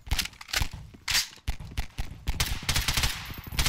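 Rapid bursts of gunfire from customizable weapons in Garry's Mod, with loud, sharp repeated shots in quick strings separated by short pauses and no talking.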